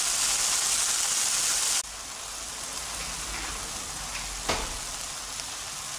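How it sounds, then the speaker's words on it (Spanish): Chicken and nopales stew cooking over medium heat in a pan, giving a steady, close sizzling hiss that drops noticeably in level after about two seconds, with one brief clatter partway through. "los vamos a dejar cocinando por 10 minutos a fuego medio"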